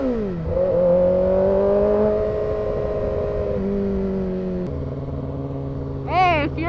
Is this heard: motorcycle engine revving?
yes